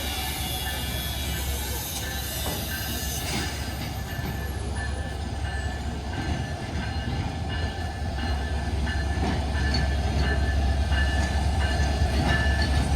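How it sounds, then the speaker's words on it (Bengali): The Benapole Express rolls into a platform at Jashore railway junction with a steady heavy rumble and a rising hiss, wheel clatter and a high screech sliding down as it slows. "বেনাপোল থেকে আগত বেনাপোল এক্সপ্রেস 1 নম্বর প্ল্যাটফর্মে এসে"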